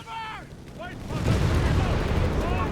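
A strafing run in the strategy video game Company of Heroes 3, a dense rumble of gunfire and explosions building up loud and continuous, with a commentator talking over the start.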